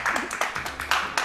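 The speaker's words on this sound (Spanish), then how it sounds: "Sacaste aplausos, Sam." A small audience claps for a guest on a Spanish-language talk show, a brief round of sparse, rhythmic claps close by that rise and fall in quick bursts.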